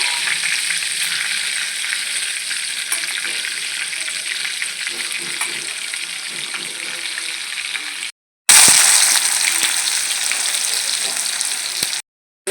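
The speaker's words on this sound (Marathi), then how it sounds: "आता आपण घेऊया तडका राई जिऱ्याचा" Mustard and cumin seeds sizzle in hot oil for a tadka, a dense, close crackling hiss that runs continuously, broken by two brief total dropouts near the end.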